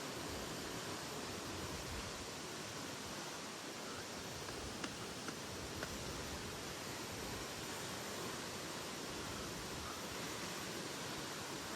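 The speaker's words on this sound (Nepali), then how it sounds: "महावीर झरना रहेछ होइन महावीर झरना झरना उचाइ 90 मिटर" Mahavir waterfall in Sindhupalchok, 90 m high, pours in a steady, dense roar of falling water. The rush is broad and unbroken from start to finish, and no voices are heard.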